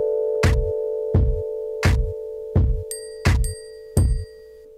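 An electronic drum pad played in a band setup, six evenly spaced punchy hits ringing over a steady sustained tone, with a bright bell-like tone added toward the end and no talking.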